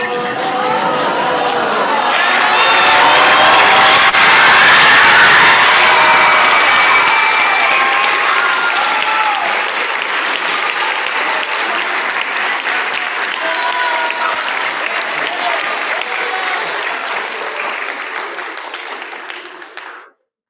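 Sustained applause from an audience at an instrumental music awards ceremony, following student speeches; dense clapping swells in the first seconds, holds steady with scattered cheers and chatter, then fades out toward the end.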